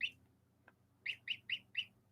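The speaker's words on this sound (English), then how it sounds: "I love that lovely chirp." A young bird gives a series of sharp, high chirps, one at the start and four more in a quick rhythm, fairly faint and close over a low background hum, with no talking.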